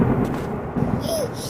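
Thunder rumbles through a thunderstorm in an animated cartoon, a short deep roll that swells and fades, with rain noise beneath and a brief high sound near the end.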